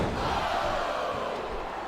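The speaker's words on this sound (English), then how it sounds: "I think these superstars are getting some feedback from the crowd" Arena crowd roaring steadily from a wrestling video game, WWE SmackDown vs. Raw 2007, a dense unbroken wash of cheering and shouting that holds at full loudness with no talk over it.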